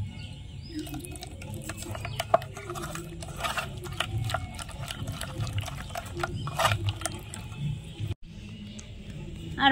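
Water being stirred into a spice and gram-flour mix to form a thick batter for palm seed pakora, with wet mixing, patter and clinks throughout, a brief dropout near the end, no talk.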